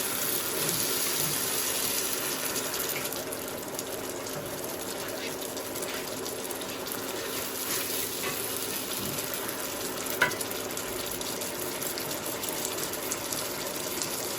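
A spice masala with coriander powder fries in oil with a steady, even hiss, joined by occasional soft scrapes of stirring and one sharper clink from the pan.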